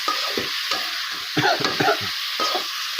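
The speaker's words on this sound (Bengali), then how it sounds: "একটু ভাজা ভাজা করে দিতে হবে হালকা" Chicken liver sizzling in a hot pan, stirred in repeated scraping bursts over a steady frying crackle, close and fairly loud with no voices.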